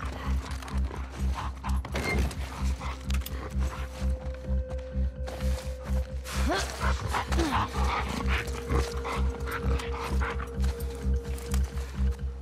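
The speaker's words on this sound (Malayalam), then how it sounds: "പട്ടി എന്തോ വരുന്നുണ്ട്" In The Last of Us Part II, a dog draws near amid rhythmic, clattering footfalls and mechanical game ambience, with a player talking over it.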